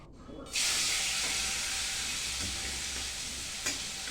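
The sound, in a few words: fish frying in a pan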